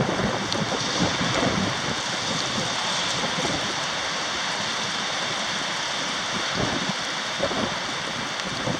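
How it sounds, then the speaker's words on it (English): Steady, roaring wind from Storm Egon in Denmark buffets the microphone with a broad rushing noise, gusting slightly throughout, with no voices. "as you can see here, the wind is real"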